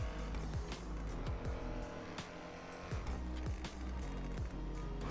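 A Jaguar F-Type in GTA 5 drives hard, its exhaust droning and revving through repeated gear changes, with tire squeal and quick shifts cutting through the steady engine roar.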